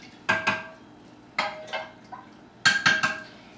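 Kombucha is mixed with a wooden utensil in a large batch, heard as three close bursts of paired scraping knocks and sloshing against the container, evenly spaced with quiet gaps between.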